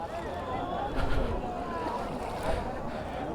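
A speedboat runs on the water at a riverside fair, giving a steady broad engine-and-water rush with a couple of louder swells, while voices murmur in the background.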